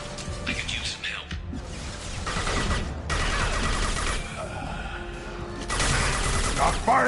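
Gunfire in the video game Mass Effect 2, irregular bursts of shots and crashes at varying loudness through a noisy battle mix, with voices speaking over parts of it.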